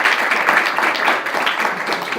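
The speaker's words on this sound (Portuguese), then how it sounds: "Peço uma salva de aplausos para ele, para iniciarmos." A brief burst of loud, close audience applause at an evening political gathering, dense overlapping clapping that stays steady throughout.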